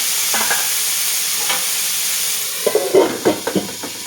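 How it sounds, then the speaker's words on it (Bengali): Bitter gourd fries in a pan beside mustard seeds, a steady sizzling hiss with a few stirring clinks and scrapes near the end. "আমি একদিকে করলাটা ভাজতে বসিয়েছি"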